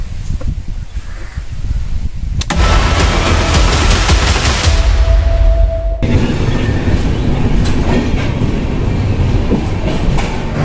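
A train rumbles loudly close by, its wheels clattering rhythmically over the rails in a steady, continuous roar.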